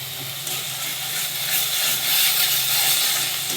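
Turmeric and ground spices sizzle steadily in a hot pan for rui fish curry, a close continuous hiss and crackle with no talking.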